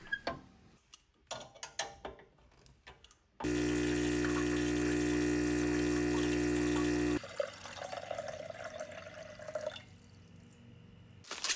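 Restored 25-year-old Gaggia Classic espresso machine pumping water toward 9 bars, a steady loud vibratory pump hum lasting about four seconds amid quieter clinks, then dropping to a softer running drone.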